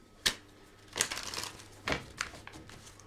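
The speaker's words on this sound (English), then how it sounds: "We're just going to shuffle some cards and get a reading for the collective." Cards being shuffled for a tarot-style reading: quiet, close riffles and snaps in a few short bursts, with soft papery rustling between them.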